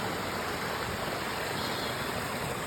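A small waterfall on a snowy mountain trail during a winter backpacking trip up Mt Marcy, giving a steady, close hiss of falling water with no voices.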